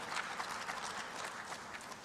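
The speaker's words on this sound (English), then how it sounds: "a round of applause to us" Sustained applause from an audience at a women's conference in Lusaka, Zambia, a dense steady patter of many hands clapping at moderate distance, continuing evenly without a break.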